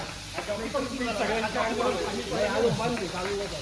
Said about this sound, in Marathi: पंप चालू करा